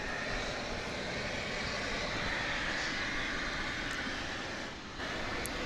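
A Boeing 777 airliner roars at DFW Airport at night, a loud, steady broadband jet rumble and whine that holds throughout.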